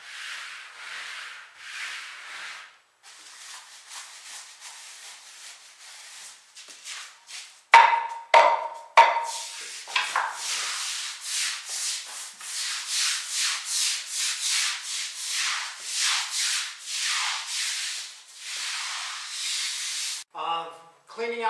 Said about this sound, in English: you take the deck brush. You're scrubbing everything down,